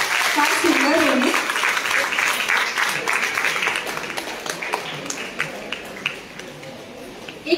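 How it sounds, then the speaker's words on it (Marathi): An audience claps for a tabla performer at a stage music event, a dense burst of applause that gradually thins and fades, with a voice heard briefly near the start. "एका जोरदार टाळ्या झाल्या पाहिजे"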